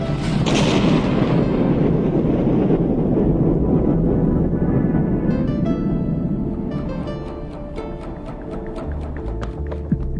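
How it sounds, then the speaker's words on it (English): A dramatized explosion of Chernobyl reactor number 4 roars as a loud, sustained rumbling blast that slowly fades, followed by a high sparkling, crackling tail of falling debris. "A massive explosion blew off the lid of the reactor number 4 at Chernobyl nuclear plant."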